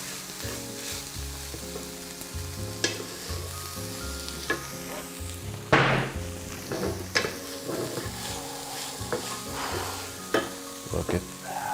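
Tofu scramble seasoned with turmeric, paprika, salt and black pepper sizzles and fries steadily in a pan, with a utensil stirring and scraping through it in repeated close strokes, no talking.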